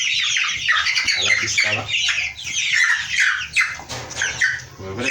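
Kuroiler chickens in a poultry house squawk and cluck in a dense, continuous chorus close by, while a person speaks briefly over the flock.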